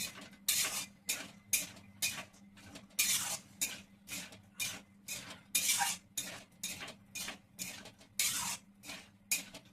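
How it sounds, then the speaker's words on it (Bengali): A utensil stirs peas and spices in a cooking pot, scraping and clattering in a steady rhythm of about twenty strokes, each one crisp and close. "তারপরে আমি মশলার সাথে এটা নেড়ে নেবো।"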